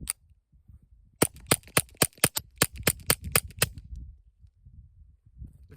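Roughly a dozen sharp, quiet .22 subsonic shots from a rifle fitted with a Griffin Armament Checkmate suppressor, fired outdoors into a mountainside in a quick irregular string, each a crisp pop with a short tail, then quiet.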